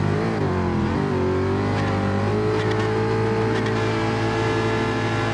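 Race car engines idling and revving on the starting grid at Mount Panorama in Gran Turismo Sport, a loud, steady multi-engine drone with pitch rising and settling as throttles blip, continuous and close.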